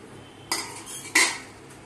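Dried rice grains being handled and stirred in a pan, two distinct rustling, rattling bursts with a short gap between and a third starting at the end, close and clear against a quiet background.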